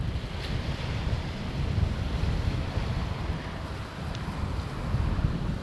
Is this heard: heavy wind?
yes